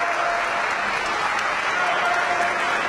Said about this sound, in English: Draws the applause of these fans.